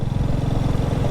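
A Royal Enfield Classic 350 motorcycle rides through a river valley, its engine giving a steady, loud, low thumping drone for about a second with no voices.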